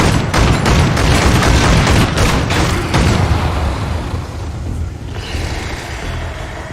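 Gunfire in the Space Hulk: Tactics video game, a loud rapid burst of repeated shots with heavy booms for about three seconds, then fading into a lower rumbling tail.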